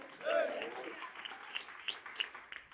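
A church congregation applauds at a revival service, a faint, distant patter of clapping with a few sharper claps, mixed with voices and crowd murmur.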